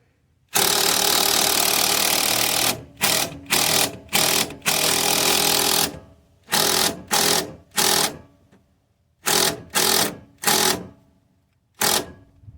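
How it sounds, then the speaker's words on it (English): A power tool runs a bolt up on the front end of a GMC Yukon XL, starting with a long steady buzzing run and then giving a series of short, sharp bursts, loud and close, with no speech. "We're now gonna run this bolt up."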